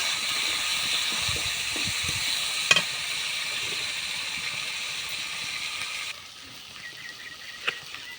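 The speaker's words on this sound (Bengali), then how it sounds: "ধনে মানে পাতা দিয়ে ভালো করে নাড়বো" Fig curry with tomato and coriander leaves sizzles steadily in a pan, with occasional faint clinks of stirring, until the frying noise drops quieter toward the end.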